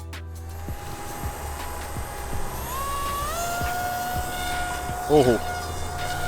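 A Raptor H650 model plane's motor whines loudly and steadily, its pitch climbing and shifting as it flies, with a brief exclamation near the end.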